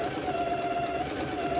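A sewing machine running a wide zigzag stitch along the edge of a ruffle, a steady close mechanical whir with a rapid even rattle and no pauses.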